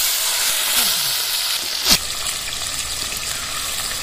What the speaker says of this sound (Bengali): এগুলো মাছগুলো ভেজে নেব।